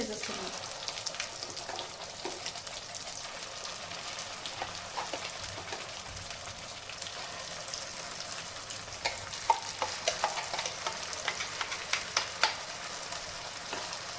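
Steady sizzling and crackling of a ground spice paste frying in a pan for palak paneer, with occasional stirring scrapes and louder pops toward the end.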